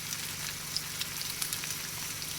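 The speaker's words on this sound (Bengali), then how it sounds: "এবার এইটাকে ভালো করে ভাজবো।" A spiced mix of fish head and mung dal with turmeric and coriander powder frying in a pan, giving a steady close sizzle with small crackling pops and no talking.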